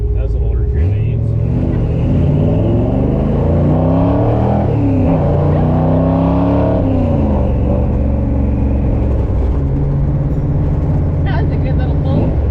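A 1957 Chevy accelerates hard at three-quarter throttle, its loud engine roaring and climbing through rising revs with a gear change partway, heard from inside the car as a voice talks over it.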